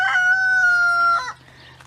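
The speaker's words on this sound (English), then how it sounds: "And the chickens love it here." A rooster crows loudly and close by in one long call, with brief clucking from chickens around it, then quiet farmyard background in a desert food forest.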